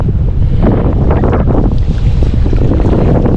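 Strong wind gusts buffet the microphone out on the ocean off the Oregon coast during kayak fishing, a loud constant rumble with water sloshing underneath and no talking.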